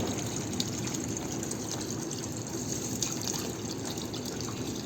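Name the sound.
washing vegetable stalks and scraps in water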